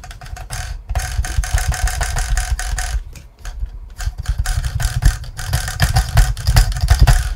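A Redcat Ascent RC crawler running on its electric motor through a stock ESC makes a buzzing, surging whir close by, pulsing with the throttle and briefly cutting out a few times, with no voices.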